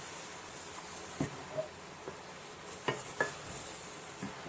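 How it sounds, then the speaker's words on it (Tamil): Mushrooms sauté in a pan over a high flame, a faint steady sizzle with scattered soft clicks and scrapes of stirring. "ஹை ஃப்ளேமில் வச்சு நல்லா வதக்குங்க."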